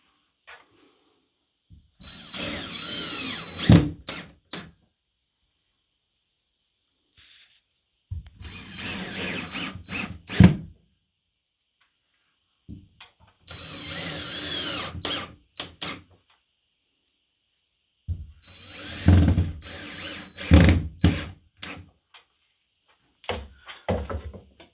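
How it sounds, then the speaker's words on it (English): Cordless drill drives drywall screws into a wall patch in four separate bursts, each a short, whirring spin that stops with a click, with silent pauses between. "we're going to throw a couple of drywall screws in."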